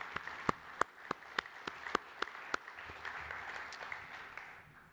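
A sparse audience at a cybersecurity forum applauds, with distinct, spaced individual claps standing out over a soft, low background wash that thins toward the end.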